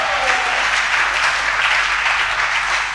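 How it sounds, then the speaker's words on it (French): A church congregation applauds during a Sunday service, dense and continuous clapping heard up close and filling the whole moment evenly. "On peut applaudir le Seigneur puissamment."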